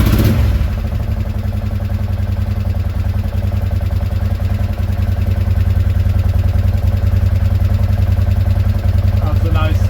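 A Honda Deauville NT650V motorcycle engine, freshly restored with reworked valves, airbox and carbs, idles with an even, steady mechanical beat that stays loud and close from start to finish.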